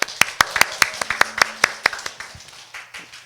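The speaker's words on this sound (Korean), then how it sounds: "목사님께 박수 한번 같이" A church congregation claps for the pastor at the close of a Sunday service, a run of sharp, distinct handclaps in a loose rhythm, fairly close, thinning out toward the end.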